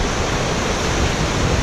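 Steady rushing of river water flowing beneath a bridge in Michigan, a dense, even wash of noise that stays loud and unbroken throughout with no talk.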